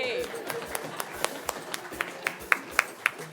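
An audience claps along in rhythm at a commemorative launch event, sharp claps landing about every quarter second and growing louder and crisper toward the end, with some voices underneath.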